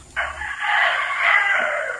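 A rooster crows once, a loud, drawn-out call close by, rising and holding before trailing off.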